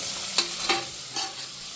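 Onions and tomatoes fry in a pan in a home kitchen, a steady soft sizzle broken by three quick stirring scrapes.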